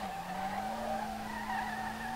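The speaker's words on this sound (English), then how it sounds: "Monster drift, exactly, my dudes." Tires skid steadily as a car drifts hard close to a wall in the game SLRR, an S30 with a BMW engine; a continuous squeal holds for the whole stretch with a low engine drone beneath.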